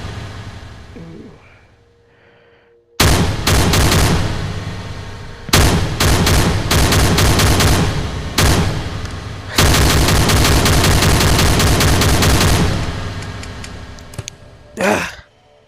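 Gunshots fired in a lab: after a quiet stretch of faint murmuring, dense, loud bursts of rapid gunfire crackle in long strings separated by brief pauses, ending with a short exhale.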